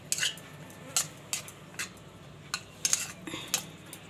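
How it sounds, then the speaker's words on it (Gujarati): Ingredients for homemade tutti frutti mixed in a bowl with a spoon, sharp clinks and taps of metal on the bowl at irregular intervals over a quiet background. "એને આપણે મિક્સ કરી લેવું."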